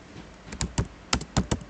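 A handful of crisp keyboard key presses, irregular taps in small clusters, close and fairly quiet with no voices.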